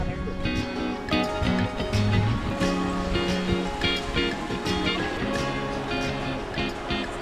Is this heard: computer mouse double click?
no